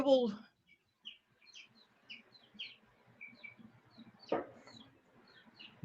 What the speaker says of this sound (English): What are y'all chirping for so much? I'm in here with the chicks